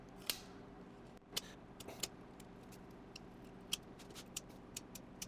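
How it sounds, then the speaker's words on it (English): Scissors trim excess gasket material during engine assembly on a 1976 Triumph TR6: a few sharp, quiet snips spaced irregularly over a faint steady background hum. "So now we're just gonna cut the excess."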